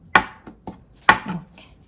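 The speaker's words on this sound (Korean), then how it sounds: "두부도 이렇게 먹기 좋은 크기로 이렇게 썰어주세요." A knife slicing tofu into bite-size pieces on a cutting board for clam doenjang stew, making a few sharp, close thumps and taps at uneven intervals, with two strokes louder than the rest.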